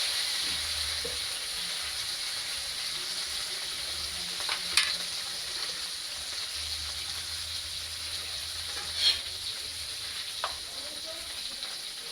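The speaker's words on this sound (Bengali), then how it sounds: "আলুগুলো একটু লাল লাল করে ভাজবো।" Boiled potatoes frying in oil in a pan, giving a continuous even sizzle with a few brief louder crackles, close and unbroken, with no voices.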